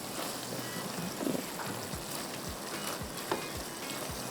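Chicken kebab mixture for Bihari bun kebabs cooks in a pan over a low flame, giving a quiet bubbling sizzle with a few soft taps and low thumps, faint and without voices.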